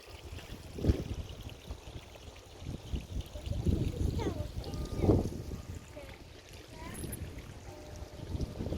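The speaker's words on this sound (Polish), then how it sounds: "No jak zwykle śmieci ale coś tam leci, jakiś wodospadzik" A small waterfall at Wilcze Doły, with litter around it, runs as a steady, moderately loud wash of falling water. Faint bird chirps sit above it, and the rush swells briefly in a few places.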